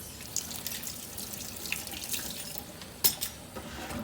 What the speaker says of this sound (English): And you're gonna rinse the cassettes off.